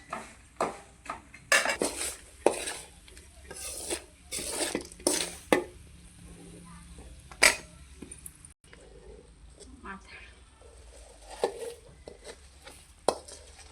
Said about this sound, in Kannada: ಈಗ ಇದನ್ನ ಅವಲಕ್ಕಿಗೆ ಮಿಕ್ಸ್ ಮಾಡ್ಕೊಂಡ್ಬಿಡೋಣ ಬರ್ರಿ